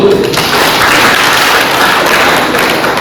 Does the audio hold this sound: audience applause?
yes